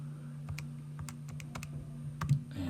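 Keys on a calculator are tapped in a quick series of light clicks, about a dozen spaced unevenly over a few seconds, faint and close against a steady low hum.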